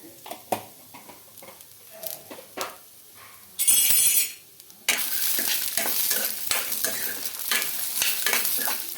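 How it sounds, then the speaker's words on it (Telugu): Lentils and cumin seeds, with dried red chillies, frying in a pan while being stirred: quiet scraping and clinks at first, then a sudden loud sizzle burst and a steady, close frying hiss under continued stirring. "ఇవన్నీ వేసి బాగా మంచిగా ఫ్రై చేసుకోవాలి"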